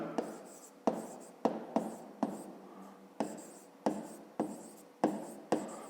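Pen or pencil writing by hand during a fifth-grade math lesson, a close, rhythmic series of scratchy strokes each starting with a sharp tap, repeating roughly every half second without talking.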